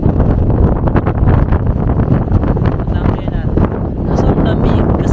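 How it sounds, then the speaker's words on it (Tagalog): Strong, cold gusty wind during a storm in Japan, buffeting the microphone with loud, continuous roaring and rumbling. "nasa kasagsagan kami ng hangin na malakas"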